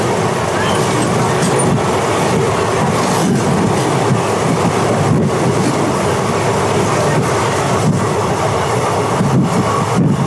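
The Sealdah–Rampurhat Maa Tara Express runs along the rails near Sainthia, heard from on board as a loud, constant rumble with faint rhythmic wheel clatter throughout.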